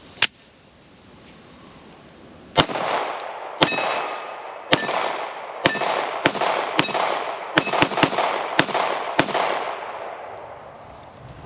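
A Glock pistol fed from a Magpul magazine fires one sharp report, pauses, then fires a rapid string of about a dozen crisp, ringing shots with a metallic edge, and no voices.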